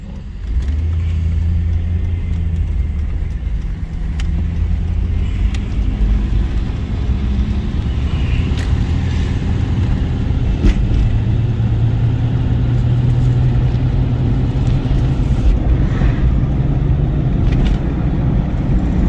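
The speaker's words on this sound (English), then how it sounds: "Getting the red SC moved now." A red SC car engine runs nearby at a steady low rumble while the car is moved around a shop, holding close to idle with slight revving and no voices.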